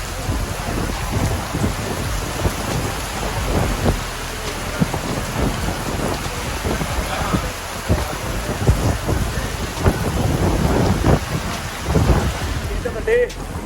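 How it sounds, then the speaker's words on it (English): Heavy rain pours down on a riding track in Lucknow in a constant hiss, with rumbles of thunder rolling in and out across the stretch. "suddenly the rain started pouring"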